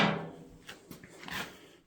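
Door of a homemade yard trailer built from scrap equipment swinging open on four weld-on hinges, giving a few soft knocks and a light creak, quiet and close, with no talking.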